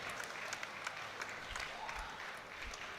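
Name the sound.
powerlifting crowd standing and applauding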